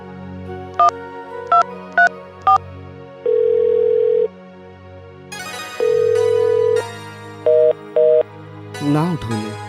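Phone tones play during an unanswered call: a few short dialing beeps, then long steady ringback tones repeated with pauses, followed by a pair of shorter beeps, with a voice briefly at the end.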